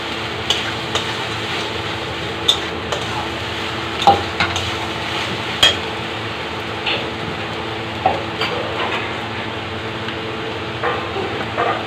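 Garlic and ginger fry in a pan, with a steady soft sizzle running under scattered stirring clicks and scrapes of a spoon against the pan, no voices.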